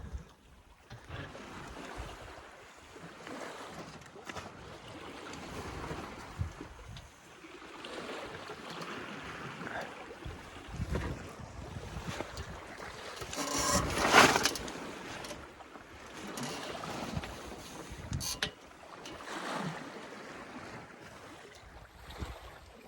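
Small sailboat alone at sea crossing the Atlantic, spinnaker flopping in the waves: steady rushing water and wind around the hull, with intermittent louder swells and flaps, fairly close and with no talk.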